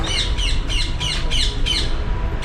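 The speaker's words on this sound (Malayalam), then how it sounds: "തത്തകളുണ്ട് പഞ്ചവർണ്ണ തത്ത" Panchavarna parrots at Thrissur zoo give a loud, close series of about six harsh, raspy squawks in quick, fairly regular succession over a steady background rumble.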